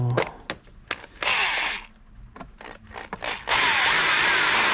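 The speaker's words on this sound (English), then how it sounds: "carefully drill through here" A power drill fitted with a 1/8 bit bores through a 2011 Subaru Legacy door lock actuator, in two sustained whining bursts separated by brief clicks and handling noises, close and loud.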